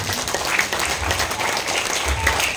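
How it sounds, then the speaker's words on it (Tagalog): A church congregation applauding for the Lord, thick continuous clapping from many hands at a steady, loud level with a murmur of voices underneath. "Grabe po yung palakpak mo sa Lord."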